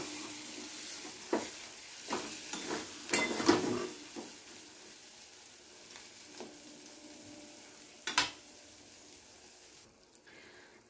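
Chopped tomatoes softening in a pan over a low flame for Bengali shankar fish curry, a faint quiet sizzle broken by occasional spatula scrapes and stirring knocks.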